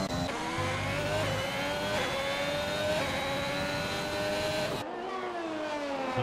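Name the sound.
race car engines in the video game F1 2021 at Monza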